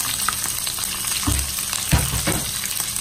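Green chilli, ginger and garlic fry in a pan for a Kerala-style mango curry: a steady soft sizzle runs throughout, with a few louder clatters or stirs near the middle.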